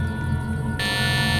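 Steady electronic tones from a device, a continuous high buzzing pitch that grows brighter partway through, with a low hum underneath and no talking.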